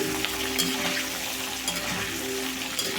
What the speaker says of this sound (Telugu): కరివేపాకు కూడా పచ్చి లేకుండా మంచిగా వేగాలండి